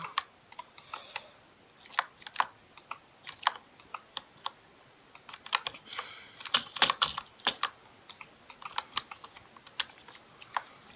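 Quiet, close-up typing on a computer keyboard, with irregular bursts of crisp key clicks and short pauses between words, heard on its own with no talking.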